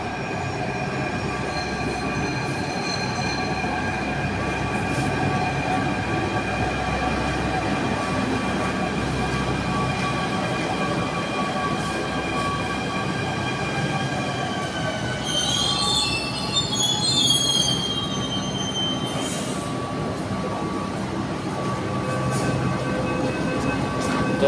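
Steady rumble of a Jaipur Metro train in motion heard from inside an empty carriage, with sustained wheel squeal and a brief high screech partway through.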